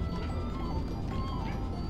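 A cat meows briefly amid a dense, steady wash of background noise, with no clear speech.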